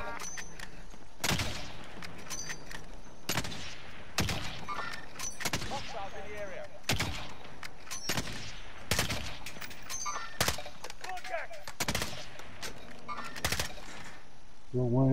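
Sharp gunshots ring out in the Warzone video game, a dozen or so loud, evenly spaced single cracks with chatter and game effects between them.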